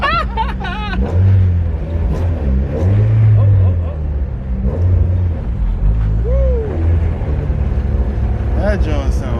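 Honda Accord fitted with a new aftermarket exhaust, its engine rumbling and revving loudly and close by, with several swelling rev pulses under excited talk and laughter from people nearby.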